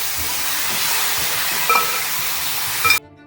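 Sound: marinated chicken added to hot pan and mixed

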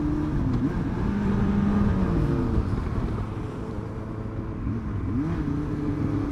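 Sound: motorcycle engine running

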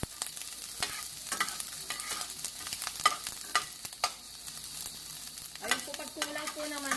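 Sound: onions frying in olive oil

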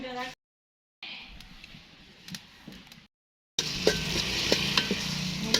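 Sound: onions frying in pan for meat curry

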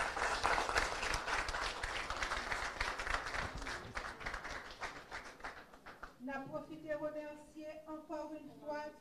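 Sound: audience applause at press conference

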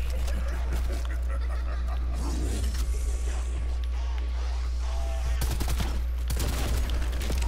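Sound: gunfire in Call of Duty zombies video game

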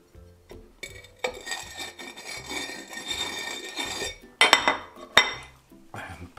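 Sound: rimming a glass with celery salt

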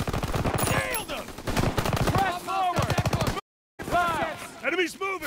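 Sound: gunfire in the video game Call of Duty WW2

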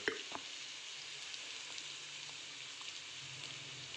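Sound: onion frying in oil as turmeric and chili powder are added

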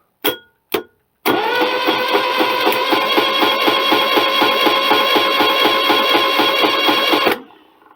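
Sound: generator made from old induction motor spinning

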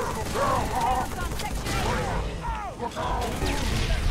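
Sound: gunfire in Halo 3 video game

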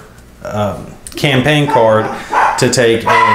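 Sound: dogs barking

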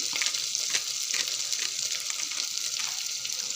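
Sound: spices frying in a pan for cauliflower fry

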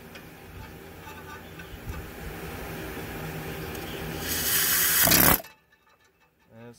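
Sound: air chisel turning torque converter bolt

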